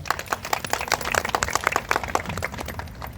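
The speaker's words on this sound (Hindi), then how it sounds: "तो जोरदार तालियों के साथ स्वागत कीजिए उस चीज का" Hands clap loudly and close at a company birthday celebration, a fairly small group producing distinct, rapid individual claps with a slightly uneven rhythm throughout.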